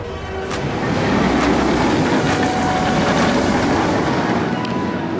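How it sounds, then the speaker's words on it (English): The Taron roller coaster train at Phantasialand rumbles past, a broad, loud, steady roar with faint clicks heard from the queue line. "they've just sent the first train of the day. It's going around."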